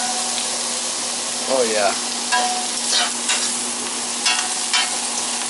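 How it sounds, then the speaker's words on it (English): Sirloin steak searing in a hot pan with a steady, loud broadband sizzle throughout, a few scraping stirs and clatters breaking through, while someone speaks briefly over it. "You could broil it, but I'm going to pan sear it here."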